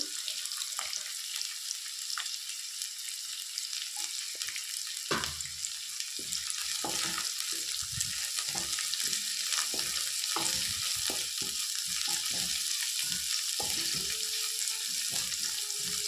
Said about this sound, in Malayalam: നല്ലോണം ഇങ്ങനെ വാട്ടിയെടുക്കണം. നല്ല ബ്രൗൺ കളറാവണത്.